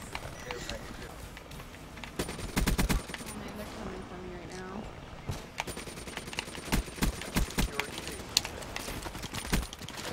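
Rapid gunfire bursts crack through an online video game shootout, several loud volleys and scattered single shots over roughly ten seconds, mixed with constant in-game noise and players talking over a laggy connection.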